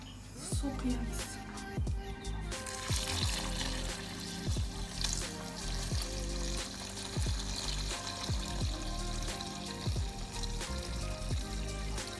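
Water poured onto minced oranges in a continuous, fairly quiet splashing trickle that runs steadily for several seconds with no pauses.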